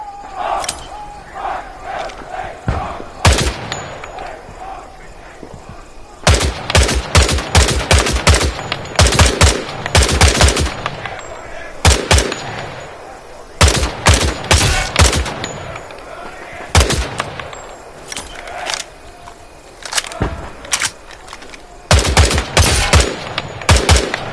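Gunfire in Hell Let Loose Vietnam comes as repeated sharp bursts and single shots at targets, loud and close, separated by short quiet gaps across a long stretch.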